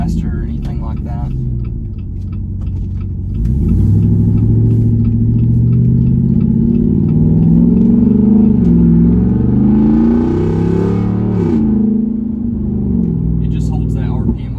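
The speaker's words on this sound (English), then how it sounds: "we'll do a small acceleration in off-road plus. That way you can hear the difference." A straight-piped Jeep Wrangler Rubicon 392 rumbles at idle before its exhaust swells into a loud, deep roar as it accelerates, holding high revs and then settling back down. Speech may also occur.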